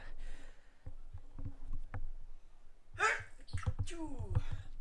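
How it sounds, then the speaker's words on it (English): A sharp sneeze bursts out midway, with quieter breathy sounds and murmuring around it. "I've got a sneeze coming."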